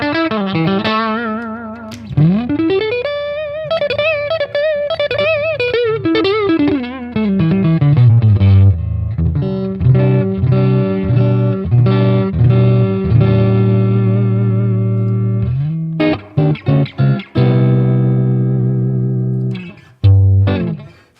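A Fender Yngwie Stratocaster electric guitar plays through a Boss Katana 50 amp with heavy gain, giving loud distorted sustained notes and a sliding bend, then choppy riffs with short stops, all alone without talk.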